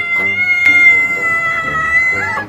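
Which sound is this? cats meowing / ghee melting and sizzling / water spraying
cats meowing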